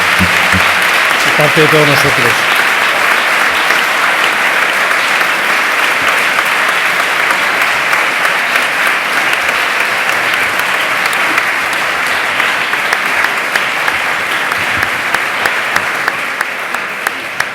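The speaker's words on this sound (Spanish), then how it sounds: "los despedimos, yo creo que con un fuerte aplauso que merecen" Strong, sustained applause from a large audience closing a morning session of a science and education conference in Madrid fills the whole stretch, dense and even, while a voice speaks briefly at the start.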